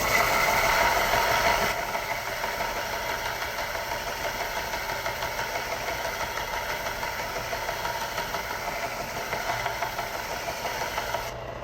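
A belt sander grinds a Damascus steel knife handle, a steady rasping mechanical drone held throughout at moderate level, slightly louder at the start.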